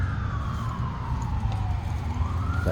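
A wailing siren sweeps down and back up in pitch over a low rumbling background, moderately loud and somewhat distant.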